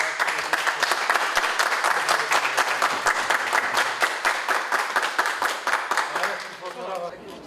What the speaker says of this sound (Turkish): Alkışlar eşliğinde gelin hanıma